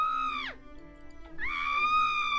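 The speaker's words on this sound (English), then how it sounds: "she gave a shriek of pain and rage" A woman's shriek of pain and rage from a boo hag, a folklore witch: a loud, tonal cry that slides sharply downward, breaks off, then rises into a second sustained, piercing wail.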